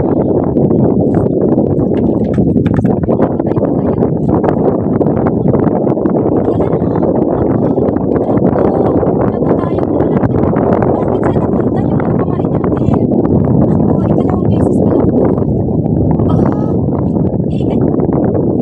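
Strong wind roars and buffets the microphone without a break during line fishing, loud and rumbling, with faint voices mixed into the gusts.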